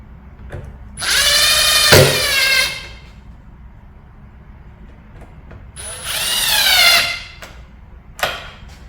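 A power drill drives a screw while a 55-inch foosball table is being assembled. Two whirring bursts of about two seconds each rise in pitch, with short clicks and taps between them and one brief final burst.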